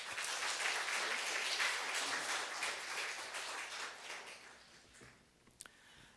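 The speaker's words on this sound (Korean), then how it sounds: "우리 이 시간에 목사님 나오실 때 함께 박수로 환영하도록 하겠습니다" Applause from a church congregation greeting the pastor, a soft, distant wash of many hands that holds steady and then thins out and fades toward the end, with a couple of stray claps near the close.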